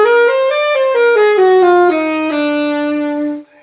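Saxophone plays a B altered dominant scale, the melodic minor pattern, as a smooth run of about ten connected notes stepping downward before settling on a long held low tone. It is played solo, close and clear, with no voices.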